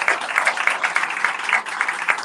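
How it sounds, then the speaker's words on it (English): An audience at a county cancer awareness event breaks into a round of applause, steady dense clapping from a crowd filling the room for a couple of seconds with no voices over it. "Let's give her a big round of applause."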